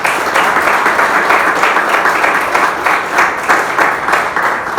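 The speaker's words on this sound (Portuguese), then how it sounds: "Aplauda o Senhor, pastor." A church congregation applauds together after a sermon on Psalm 73, a steady dense wash of many hands clapping for about five seconds, loud and close, with no talk over it.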